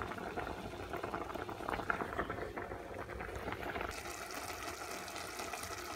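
Water boils steadily in a cooking pot of matar pulao, a continuous bubbling hiss with no speech, fairly close and even in level throughout.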